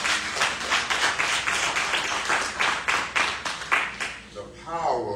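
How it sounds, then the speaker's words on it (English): A church congregation claps in praise during a sermon, a fast, even rhythm of loud hand claps carrying through the hall before a voice briefly takes over at the end. "Let's give the Lord a hand clap of praise."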